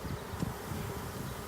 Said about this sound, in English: I'm going to now install the bees in the hive